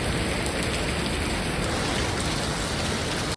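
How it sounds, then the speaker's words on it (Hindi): Heavy rain pouring during a storm outside a home, a loud dense continuous hiss of downpour that stays steady throughout before cutting off abruptly at the end. "बहुत तेज बारिश है"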